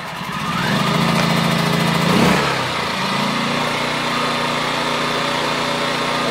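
A Generac IQ2000 inverter generator cranks and catches, its engine note surging briefly, then settling into a steady, close, continuous running drone with no talk over it.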